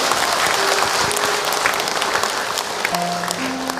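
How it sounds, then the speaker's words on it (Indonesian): Sustained applause from a crowd of women at an Islamic religious lecture, a steady dense wash of clapping filling the whole stretch with a few faint tones over it. "Tepuk tangan buat ibu-ibu semua yang hadir hari ini"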